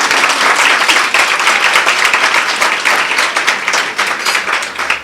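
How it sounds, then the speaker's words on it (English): A large crowd at the African Women in Media Awards claps loudly and enthusiastically, a dense continuous roar of applause lasting the whole stretch. "clap the hardest for yourselves."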